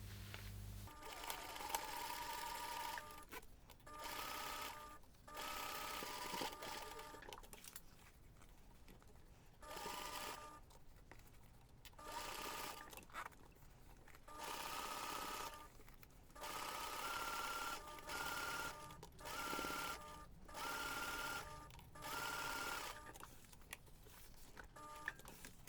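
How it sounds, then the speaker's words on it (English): Domestic sewing machine stitching fabric panels for a laptop bag, running in repeated bursts of rapid mechanical whirring with short pauses between seams, close and alone. "Then you're going to stitch along the side, then stitch along the top, and then stitch along the other side."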